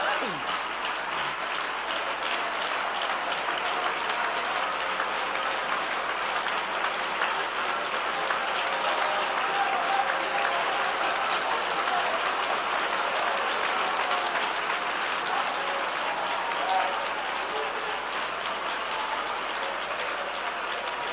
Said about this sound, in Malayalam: കൈയടിക്കുന്നേ, നേരെ കൈയടിച്ചെങ്കിൽ നേരെ കരങ്ങളടിച്ചേ